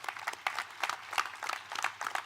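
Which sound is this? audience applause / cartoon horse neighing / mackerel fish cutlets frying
audience applause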